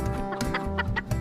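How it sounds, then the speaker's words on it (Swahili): Native free-range chickens clucking in a short, busy burst of several overlapping calls, close and fairly loud, with a rooster-like tone among them. "Unawaona kuku hawa?"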